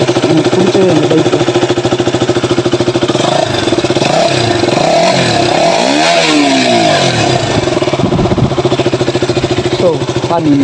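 Loud, close KTM RC 200 motorcycle engine running continuously, its pitch rising and falling through revs mid-way, with a voice faintly underneath.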